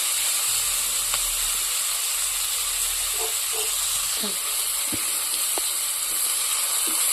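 Ingredients frying in a pan for dal, a soft continuous sizzle with a few faint scrapes and clicks of stirring, close and low in level.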